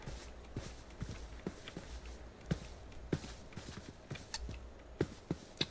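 Horse hooves clip-clopping in Minecraft, a steady run of close, crisp hoof clops at walking pace over low game ambience.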